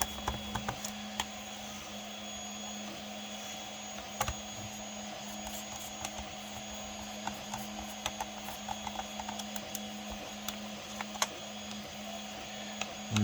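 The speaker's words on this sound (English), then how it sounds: "do not mind a lot of noise around here because I have a lot of printing going on" Several printers run in a room, a steady low mechanical hum and whir broken by frequent sharp clicks and ticks, fairly faint and without talk.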